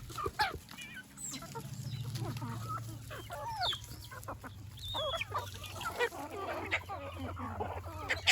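Native country chickens cluck while grazing, with a string of quiet, irregular clucks and short calls scattered over a low background.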